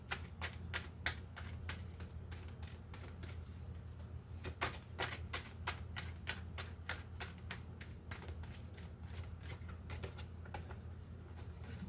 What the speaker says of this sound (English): cutting the deck with trust